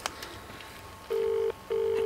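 A phone gives two steady electronic tones of equal length separated by a short gap, sounding close and clear over faint background noise.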